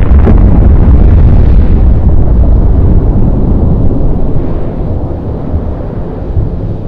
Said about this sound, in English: bombs come in varieties of small explosion, big explosion, and really big explosion.